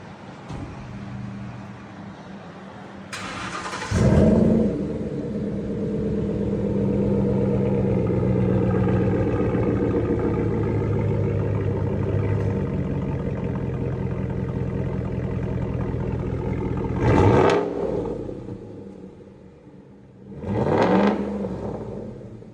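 A 2013 Ford F-150 engine with a Corsa stainless mandrel-bent exhaust and dual 4-inch side tips starts up and idles with a deep rumble, then is revved in three sharp bursts, close and loud.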